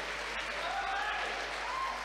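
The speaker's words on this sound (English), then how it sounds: "Give a big, warm round of applause for Ellie Jones" Crowd at a Ninja Challenge League finals event applauds steadily for a competitor, a thick, even wash of clapping heard from a distance inside an echoing venue, with faint voices mixed in.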